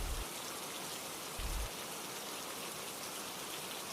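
Rain falling on a rainy night, a steady, dense hiss of drops with a couple of brief low thumps, faint and without voices.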